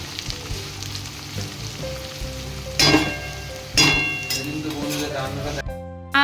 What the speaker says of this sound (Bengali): আর এদিকে বেরেস্তার জন্যে পেঁয়াজটা ভাজতে দিয়ে দিয়েছি